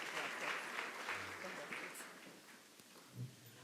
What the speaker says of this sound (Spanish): el aplauso de nuestros asistentes